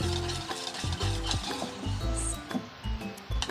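Bajji batter for aloo bread is stirred and mixed in a bowl, producing repeated wet scraping and slapping strokes in an irregular rhythm, close and fairly loud.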